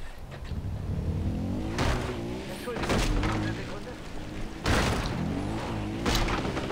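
A car driven in the video game Far Cry 4 keeps up a steady engine drone, with repeated revving surges and rough bursts as it speeds along, while a voice talks over it.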